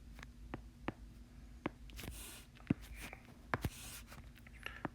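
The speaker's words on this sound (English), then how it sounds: "So let me just write it here." A pen writing out carbon atom notation during a chemistry lecture: a series of short, faint scratching strokes and taps at irregular intervals over a low steady hum, with no talking.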